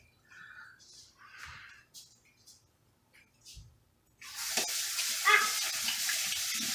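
Water gushes steadily from a tap in a home kitchen while pumpkin recipes are being made, starting suddenly after scattered quiet voices and running loud and continuous to the end.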